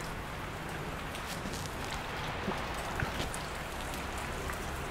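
Steady rain falling, a dense even hiss with scattered louder drop ticks, moderately loud and continuous throughout with no voices.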